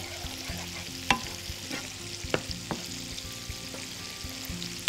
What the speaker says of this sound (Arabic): طيب احنا هنحركهم كويس وهنسيبهم يغلوا غلوه بسيطه قوي